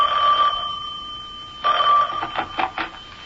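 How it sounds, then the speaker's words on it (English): An old telephone bell rings in a radio drama scene, two bursts of ringing separated by a pause, the second breaking into several short rings, loud and close with no talk. "I was barely settled into my mother's house when the phone rang."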